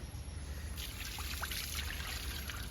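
Water trickles and pours steadily over a large turkey being cleaned with turmeric powder and salt, a close, continuous splashing hiss with no talk.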